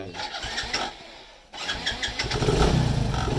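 A Hero Honda Splendor motorcycle with a newly fitted battery is started: a short electric-start crank, then a pause, then the engine catches and settles into a close, steady idle.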